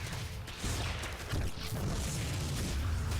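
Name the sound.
cannon firing at drones in a StarCraft video game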